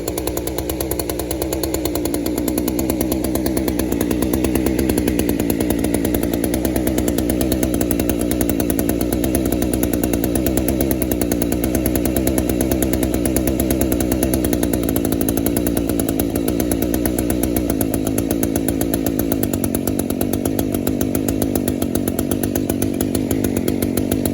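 A small engine runs at a constant loud, buzzing idle while its idle speed is adjusted during clutch repair work. The pitch shifts only slightly over the long, unbroken run.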